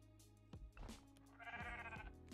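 Sheep bleating in the cozy building game Tiny Glade, two or three short bleats over a soft musical background, fairly close and moderately loud.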